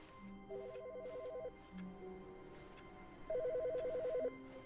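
An electronic phone in the video game The Stanley Parable rings in two trilling bursts separated by a pause, clear and close over a soft background hum, with no talking.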